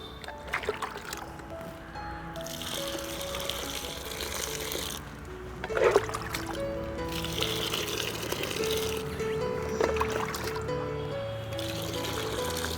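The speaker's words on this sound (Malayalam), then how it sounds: "അപ്പോൾ ഇതിനകത്തോട്ട് നമുക്ക് കുറച്ച് വെള്ളം കൂടി ഒഴിക്കാം" Water poured into a large bucket holding a jaggery organic fertilizer mix for orchids, a sloshing, trickling stream with a splashy surge midway, music faint behind.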